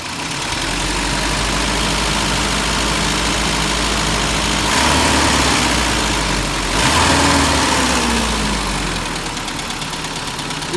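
A 1992 Toyota pickup's 22RE four-cylinder idling with a persistent valve tick, a steady close rumble that rises slightly in two short revs midway, with no talking.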